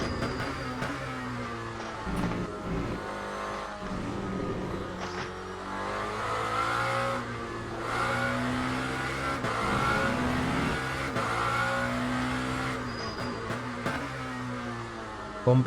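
Lamborghini SC63 LMDh prototype race car engine in the Le Mans Ultimate sim racing game, revving and shifting continuously under load with rising and falling pitch, loud and steady throughout.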